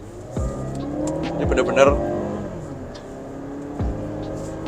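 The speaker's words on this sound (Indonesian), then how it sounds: "kita mau coba mesinnya. Kita kick down ya." A 2017 Mazda CX-5 petrol engine accelerating hard on kick-down, a steady engine drone with rising tones running beneath continuous talk from a person inside the car.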